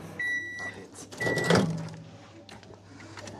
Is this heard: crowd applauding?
no